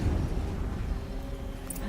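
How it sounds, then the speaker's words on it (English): An explosion in the video game Horizon Zero Dawn, a loud, sustained low rumbling boom that fills the whole two seconds with dense, roaring noise and no speech over it. "Another explosion."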